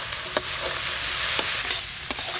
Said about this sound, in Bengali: এবার ভেজে রাখা মোচা আর আলু দিয়ে দেবো।